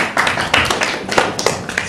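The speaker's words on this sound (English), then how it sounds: "By applause, how many people think this is a photo?" A smaller, sparser round of audience clapping at a live talk, uneven individual claps spaced across the moment, close and fairly loud with no speech.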